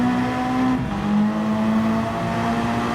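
A McLaren race car with a mid-rear turbocharged engine in Gran Turismo 7 holds a loud, steady high-pitched engine whine, dipping briefly in pitch as it shifts, then carrying on close and sustained with no talking.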